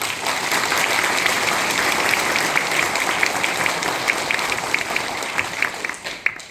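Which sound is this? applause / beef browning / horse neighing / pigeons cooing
applause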